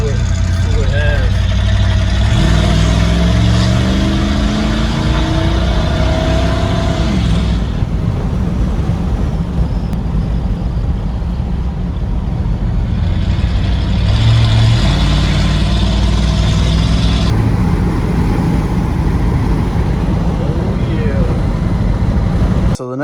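A 1987 Dodge Ram D150 Desperado truck with a muffler delete accelerates, its loud raw engine roar rising and falling through several gear pulls from inside the cab for over twenty seconds.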